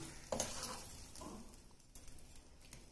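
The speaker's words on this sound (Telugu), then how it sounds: "ఇలా కనుక మనం తాలింపు పెట్టామనుకోండి పప్పుకు" Spices for the tempering of Rayalaseema-style gongura dal sizzle quietly in hot oil, with a few stirring scrapes and soft crackles over a faint, steady frying hiss.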